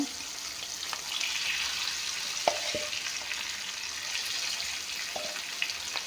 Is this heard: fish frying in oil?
yes